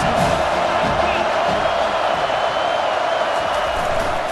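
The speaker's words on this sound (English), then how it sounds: "Listen to this crowd just shaking the girders of this place, trying to help their defense." A dense stadium crowd in a college football video game roars continuously, loud and sustained, with whoops and cheers rising through the steady wall of noise.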